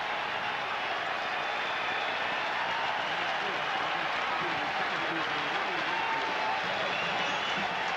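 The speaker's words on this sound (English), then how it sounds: "Listen to this New York crowd" A New York baseball crowd cheers during a 1998 Cardinals game as Mark McGwire chases the home run record, a steady, distant roar of cheering and clapping with an announcer talking over it.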